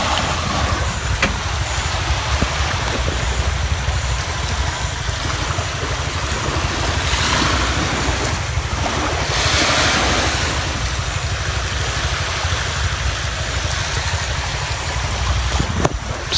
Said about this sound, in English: It's just the waves.